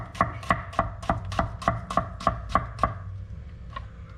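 A chef's knife slices finely through a shallot on a board, about ten crisp, evenly spaced chops in a steady rhythm, close and clear, then trailing off into a couple of lighter taps.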